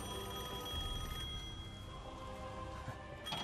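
A telephone rings in the Devil May Cry 5 video game, a faint electronic bell tone sustained over quiet background ambience, with no talking.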